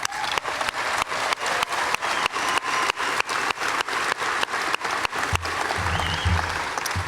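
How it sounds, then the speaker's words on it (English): At an Army infantry graduation at Fort Benning, the crowd applauds the MCOE band with loud, rhythmic, unison clapping in evenly spaced beats that later loosens into a rumbling, scattered ovation with low crowd noise. "giving an appreciation and a round of applause for the MCOE band"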